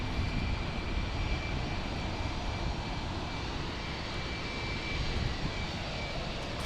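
Jet airliner on approach to land at Fort Lauderdale International Airport, heard as a steady, broad engine roar holding level throughout with no voices.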